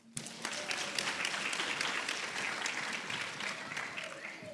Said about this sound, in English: Please give a hand of applause for Miss Esther Small.